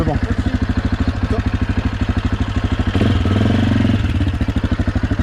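Motorcycle engine idling close by in Albania with a steady, rapid thumping pulse, briefly rising in a short rev partway through before settling back; voices talk over it.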